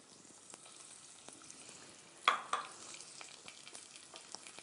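Onions and green chilies fry quietly in a pan with a faint, steady sizzle, broken by a brief louder clatter and scrape of stirring near the middle.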